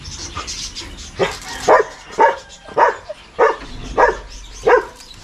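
Dogs bark repeatedly at close range, about seven loud barks in a steady rhythm over a low background noise.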